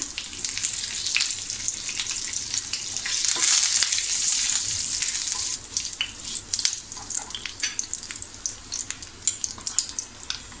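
Bay leaves and curry leaves hit hot oil with cumin for a mushroom and pea masala, giving a loud, bright sizzle that swells for several seconds, then settles into crackling pops and stirring scrapes, with no voices.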